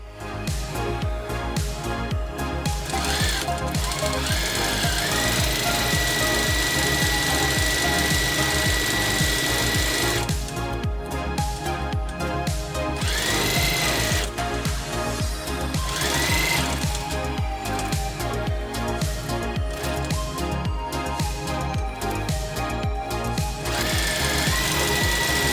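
A sewing machine top stitching a quilt, running in long fast continuous stretches of rapid needle clatter with brief pauses, close and steady.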